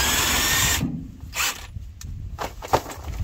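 A power tool on a car with a 4-speed Muncie transmission runs in loud whirring bursts while removing transmission bolts, with ratcheting clicks between the runs, close up and without speech.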